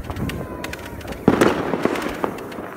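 Fireworks launched by an older man go off nearby, a run of sharp crackling pops and bursts with a louder cluster of bangs midway, over a rough outdoor background.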